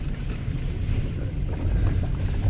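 A Nissan X-Trail creeping slowly through a deep water-filled hole on a trail, with continuous low rumbling, sloshing and splashing water and no voices.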